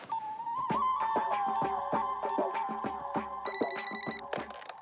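An office telephone rings with an incoming call, a loud, close electronic ring repeating in quick regular pulses, with a brighter chirping tone toward the end.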